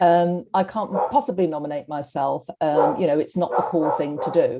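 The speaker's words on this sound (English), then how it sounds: "Apologies for the dog there." A dog barks and yips repeatedly close by, its short bursts mixed in with a man's steady speech in an indoor room.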